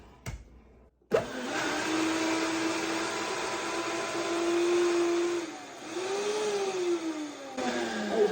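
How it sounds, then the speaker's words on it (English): After a brief click, a powerful blender whirs loudly and steadily for several seconds, its pitch rising and dipping slightly as it runs. "I'm going to blend it just for a little bit"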